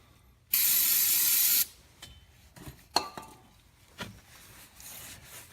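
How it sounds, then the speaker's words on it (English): Brake cleaner hisses from an aerosol can onto a rag in one loud, steady spray of about a second, followed by faint clicks and handling knocks while working on a Ford Escape axle support. "A little brake clean on a rag"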